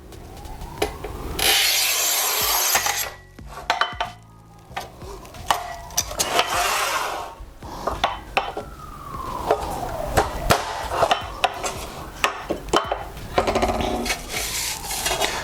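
A Fixtool Hercules BM 120T manual tile cutter splits a 50 mm tile in half: repeated rough scraping strokes and gritty rubs with sharp clicks and knocks between them, close and uneven.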